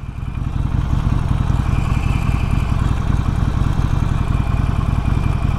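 Steady motorcycle engine vibration and drone picked up while riding, a continuous low throbbing hum that stays close and loud throughout with no talk.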